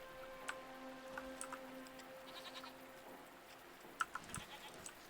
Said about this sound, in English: Great news that you can pet the goats in this game.